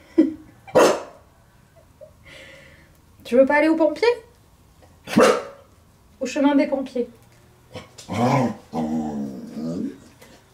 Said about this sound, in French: Je le fais à peine râler ce chien